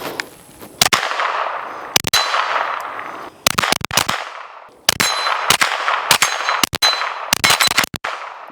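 Suppressed pistol caliber carbine fitted with an Osprey 45 suppressor, firing rapid strings of sharp, loud shots in four quick bursts with short pauses between, each crack trailing into a hissing decay, no talking.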